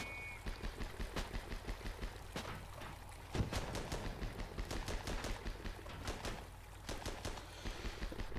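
Rapid repeated gunfire pinging against an armoured vehicle in Armoured Battle Crew, a steady stream of sharp metallic impacts over a constant low engine rumble, with no talk.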